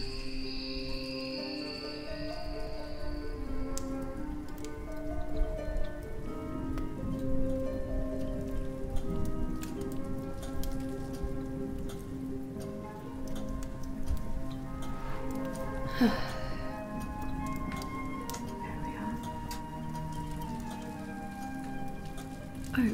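Steady rain pattering on surfaces, with crickets chirping and soft background music running throughout.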